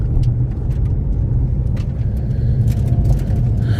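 A Ford Mustang GT350 on the move gives a loud, close, deep engine rumble with steady road noise, pulsing slightly as revs shift through downshifts, with faint ticks and clicks above.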